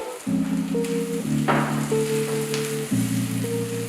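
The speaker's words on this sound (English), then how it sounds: "Now add the boiled pork to it and mix it well." Boiled pork being mixed into chopped onion in hot oil, crackling and sizzling steadily at close range over a sustained tonal musical drone, with a brief louder burst of frying midway.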